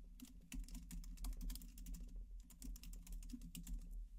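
A computer keyboard clatters as a prompt is typed, rapid close keystrokes in uneven bursts with short pauses, quiet and with no voices.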